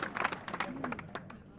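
Short burst of audience applause at a poetry recital, a cluster of quick claps for about a second that fades out fairly soon.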